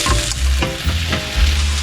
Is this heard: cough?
no